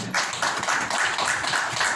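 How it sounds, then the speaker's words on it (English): Audience applause at a campus press meet, a dense, steady wash of many hands clapping at fairly close range, with a faint pulsing rhythm and no voices over it. "Please give a big round of applause."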